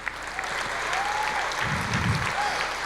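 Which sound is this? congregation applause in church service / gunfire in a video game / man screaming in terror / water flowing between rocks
congregation applause in church service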